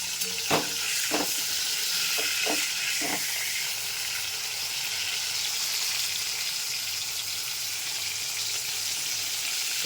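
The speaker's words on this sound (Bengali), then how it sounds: "মাছগুলো ভাজা হচ্ছে" Fish straight from the fridge frying in a pan at home: a constant close, loud sizzling hiss throughout, with a few sharp pops and spits in the first three seconds.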